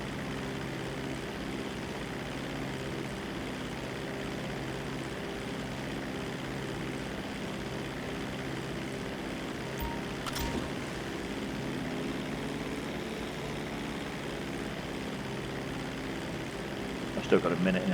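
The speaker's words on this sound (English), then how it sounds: "so I'm probably just going to fly the plane right across" A seaplane in a video game drones steadily in flight, its propeller engine producing a constant, even hum that holds unchanged from start to finish, with a short bump in level near the end.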